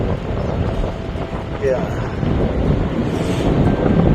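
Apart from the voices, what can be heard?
strong wind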